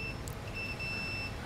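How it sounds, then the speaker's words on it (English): A multimeter's thin, steady continuity beep sounds for about a second over a low background rumble, fairly faint, while checking a misfiring cylinder on a 2014 BMW X5 4.4L N63 twin-turbo. "I've got a meter that beeps"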